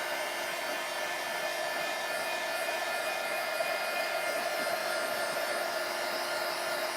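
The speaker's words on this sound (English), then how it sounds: "just keep moving the heat gun round just to start off, just to dry that ink off" A heat gun drying distress ink on lace runs as a steady, loud blowing whoosh with a constant motor whine, held without pause throughout and with no voices.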